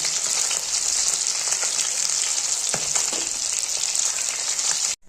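Vetki fish bones frying in hot oil in a wok, a loud continuous bright sizzle with crackling pops throughout, close and alone before it cuts off abruptly at the end.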